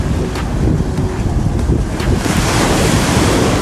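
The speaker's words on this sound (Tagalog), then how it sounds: "Check nyo yung alon dito banda" Ocean waves crash continuously at Casapsapan Beach in Casiguran, Aurora, a loud broadband surf roar with wind buffeting the microphone, building slightly stronger toward the end with no voices.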